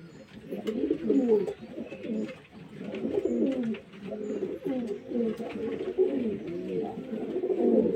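Home-bred domestic pigeons coo in a continuous, layered chorus of low throaty calls that rise and fall without pause, close by and fairly loud.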